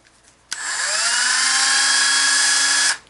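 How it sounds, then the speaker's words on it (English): A Dremel 8220 handheld rotary tool switches on and runs at high speed, a steady close whine lasting about two and a half seconds before cutting off. "This is the Dremel 8220. Great handheld tool."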